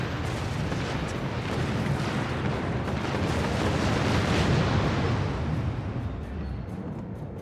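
A torpedo explosion in the space combat game Star Trek Online, a loud sustained rumbling blast that swells toward the middle and slowly fades, dense and booming throughout.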